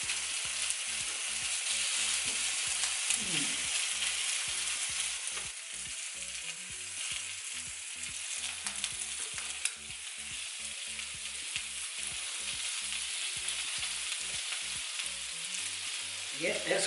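Prawns sizzling on a home barbecue grill, a steady loud crackle with a dense hiss that runs unbroken and close throughout, with small pops scattered over it and no voices.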